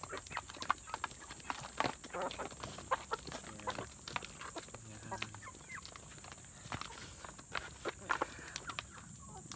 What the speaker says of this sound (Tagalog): Gutom yung manok, guys.